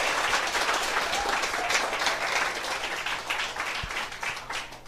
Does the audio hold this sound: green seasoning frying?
no